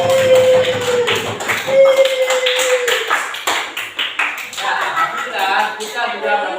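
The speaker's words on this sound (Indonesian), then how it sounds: "Oke, tepuk tangan buat kelompok 3." Applause from a classroom of students for a student group after their presentation, scattered claps with a tonal ping and voices mixed in, moderately loud and fading after a few seconds.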